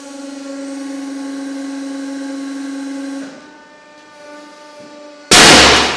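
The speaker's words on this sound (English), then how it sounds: "That was a huge explosion." A pressure bearing bursts under a 70-ton press behind a polycarbonate shield: a steady machine whine and hum give way to one sudden, very loud, sharp bang at the end.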